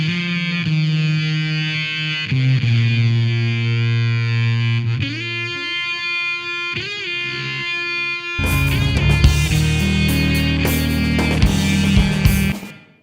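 An electric guitar rings through an Electro-Harmonix Memory Toy analog delay, notes smearing and repeating into wobbling echoes, then a denser, gritty burst of strummed sound toward the end.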